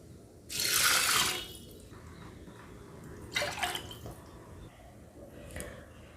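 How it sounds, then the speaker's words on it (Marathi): A short burst of water pours and splashes close by into lentils for drumstick dal, followed by two briefer, quieter splashes over a faint background. "मी तीन वाटी पाणी टाकते"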